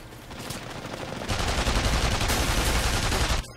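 Video game gunfire, a loud burst of noisy shots that gets heavier midway and then stops abruptly.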